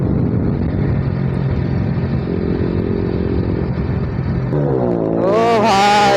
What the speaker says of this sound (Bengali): বাইকের সাউন্ডটা গাইস এনজয় করো, পুরো সুপার বাইকের মতো লাগছে।